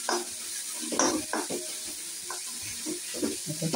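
Vegetables fry in a pan with no tempering spices, a soft sizzle under quick scraping and clinking as a spatula stirs them. Short metallic taps come close and irregular.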